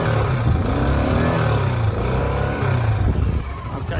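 A Honda Pacific Coast PC800 motorcycle engine revs up close, a loud, continuous low throbbing that swells and eases slightly before dropping off near the end.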